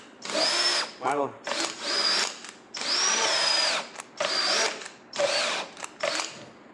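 A power drill drives a bit in a series of short bursts, each a loud whining whir rising and stopping, with brief pauses and clicks between runs, close by.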